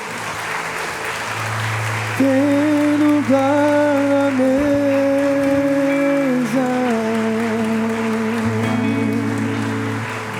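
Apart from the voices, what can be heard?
congregation applause in church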